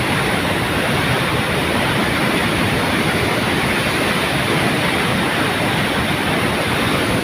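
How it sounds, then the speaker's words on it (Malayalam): Water pouring through an open shutter of the Bhoothathankettu Dam, a loud, continuous broadband roar of powerful flow that stays constant from start to finish, with no voices. "ഭൂതത്താൻകെട്ട് ഡാമിൻ്റെ ഒരു ഷട്ടർ തുറന്നിട്ടുള്ള സ്പീഡാണ് ഈ കാണാൻ വെള്ളത്തിൻ്റെ"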